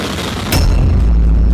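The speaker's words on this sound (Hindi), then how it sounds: "मिसाइल लॉन्चर पर खड़ी की जाती है और फिर दाग दी जाती है।" An RS-24 Yars intercontinental ballistic missile is launched from its launcher: a sharp blast erupts, then gives way to a loud, heavy, continuous roar that swells and fills the low end.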